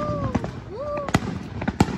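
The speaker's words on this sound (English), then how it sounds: "Goodbye, fireworks." Fourth of July fireworks bursting outdoors, several sharp cracks and booms spread over two seconds, with whistling rising streaks between them and a faint voice nearby.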